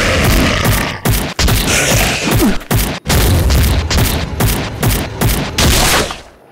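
Rapid, loud gunfire in the FPS game Devil War, aimed at lift buttons: near-continuous bursts broken by brief gaps, heavy booming impacts throughout, and a short exclamation partway through.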